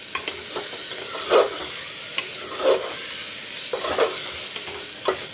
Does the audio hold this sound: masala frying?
yes